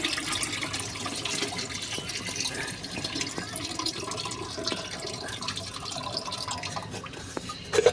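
Homemade liquid plant fertilizer is poured through a strainer, with a plate used to help strain it. It makes a steady, moderately loud trickling and splashing that runs throughout.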